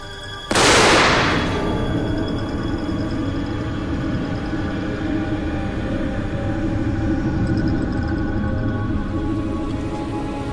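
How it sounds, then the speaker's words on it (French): A single sharp dynamite test blast in front of a wall and building bursts out near the start, loud and sudden, then fades into a long, steady rumbling wash of noise. "L'expérience doit simuler une explosion devant un mur et un bâtiment."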